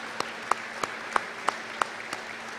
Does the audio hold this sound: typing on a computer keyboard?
no